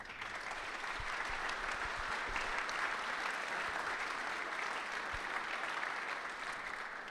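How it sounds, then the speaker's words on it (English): An audience at the DjangoCon Europe 2019 conference claps steadily for a speaker. The applause is even, dense and sustained for several seconds, moderately distant and with no voices over it. "a big round of applause for Carlton"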